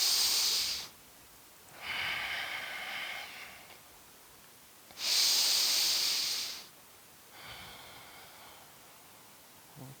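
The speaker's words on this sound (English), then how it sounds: "Two more big full breaths." Deep, slow breaths during a side angle yoga pose: two loud, airy exhales alternating with two softer, quieter breaths, each lasting a couple of seconds, close and alone with no talking.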